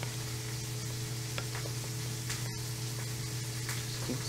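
Food being stirred in a pan, where chives have just gone into mashed potatoes, giving a steady close sizzle and hiss with faint scraping throughout.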